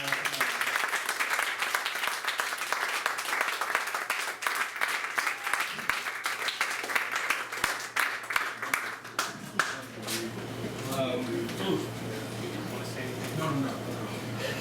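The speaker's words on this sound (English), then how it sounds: "All right, everyone, please give a round of applause" Applause from an audience after a talk, steady dense clapping through most of the stretch with a low hum underneath, thinning out toward the end as a voice starts to speak.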